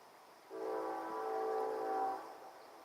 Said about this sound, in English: They honk the horn more than they need to let people know that a train is coming.